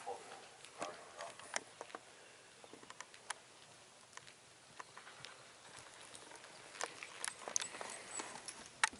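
Horse hooves thud and clip-clop at an even pace during a riding lesson with canter work in an arena, faint and moderately distant, with occasional brief spoken instructions over them.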